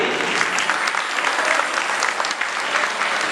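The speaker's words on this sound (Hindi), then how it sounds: "बजाओ ताली" Sustained applause from an audience at a Jain temple stage play in Ayodhyanagar during the Mukut Saptami festival, dense and steady clapping filling the whole stretch with no voices on top.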